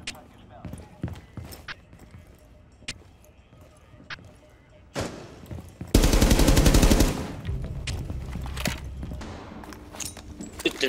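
Gunfire in a video game: scattered sharp single shots, then a dense loud burst of automatic fire lasting about a second, followed by more sporadic cracks under ongoing noise.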